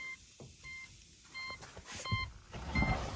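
A series of short electronic beeps from a 2005 Pontiac GTO's key fob lock, in a steady repeating pattern, with faint rustling and movement sounds around them.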